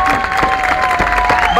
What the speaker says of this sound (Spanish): este aplauso tan fuerte